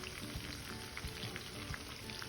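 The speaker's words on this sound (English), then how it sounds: "So the fish is frying in an oil filled with spices." Fish frying in oil seasoned with thyme, onion and whole pepper for Jamaican brown stew fish, a faint steady sizzle with soft popping crackles throughout.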